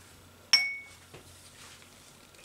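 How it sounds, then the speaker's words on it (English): A small dish is picked up and set down during a craft session, giving one sharp, bright clink up close followed by a few softer taps and light handling noise. "Let me get a little dish to do that."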